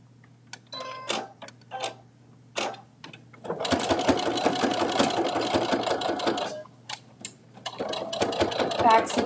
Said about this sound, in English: So I'm just going to go ahead and stitch this in place.